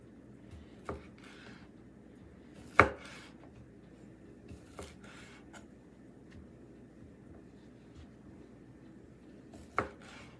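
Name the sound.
knife chopping smoked sausage for gumbo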